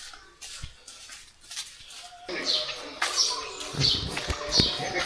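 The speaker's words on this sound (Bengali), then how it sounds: "পাখির ডাক" Small birds chirp outdoors on a bright morning, with a few short, high tweets in the second half over faint background clatter and murmur.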